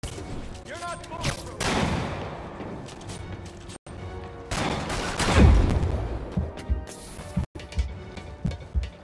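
Sniper gunfire in the video game Marvel's Spider-Man Remastered: several sharp shots and crashing impacts spread across the clip, with talk and scattered action noise around them.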